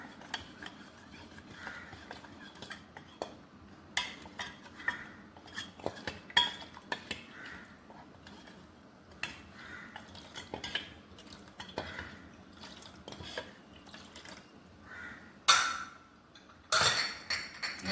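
A spoon stirs a milk mixture with idiyappam flour in a bowl for paal kozhukattai, giving steady close scraping and light clinks against the bowl, with a few sharper knocks near the end.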